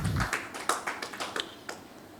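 Scattered handclaps from a small audience welcoming a guest at an event, a few sharp claps at irregular intervals rather than a full ovation, fairly faint and brief.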